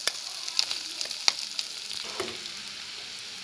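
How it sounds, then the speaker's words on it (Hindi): Mustard seeds, green chili and curry leaves crackle in hot oil in a pan for poha, giving a light continuous sizzle dotted with sharp little pops and ticks, close up with no talking. "सरसों के दाने हमने डाल दिए इसमें, हरी मिर्च भी डाल देंगे और करी पत्ता भी, चला लेंगे"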